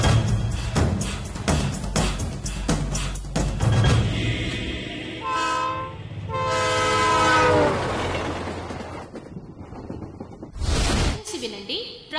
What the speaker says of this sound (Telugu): ట్రైన్ నెంబర్ 2727 విశాఖపట్నం నుండి హైదరాబాద్ వచ్చు గోదావరి ఎక్స్ప్రెస్ మరికొద్ది నిమిషములలో 2వ నెంబర్ ప్లాట్ఫామ్ లకు వచ్చు